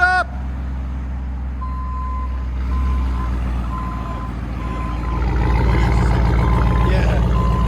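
A Ram 2500 Power Wagon with a 6.4L Hemi V8 backs up under a deep, loud exhaust rumble while its reversing alarm beeps at a steady pace; the engine swells toward the end.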